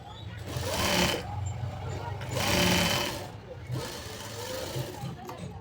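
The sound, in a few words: sewing machine stitching a designer kurti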